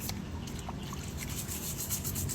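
A small brush scrubbing steadily, a continuous soft rubbing and scratching texture that stays even and close throughout with no voices.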